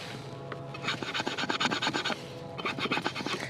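A Serbian cleaver blade scraped across wood in two bursts of short rasping strokes, close and clear, with a brief pause between them.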